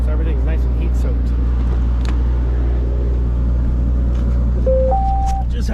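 A heat-soaked car engine idles after running for about twenty minutes, giving a steady, loud low rumble that holds constant throughout, with a few faint higher tones and brief background sounds on top.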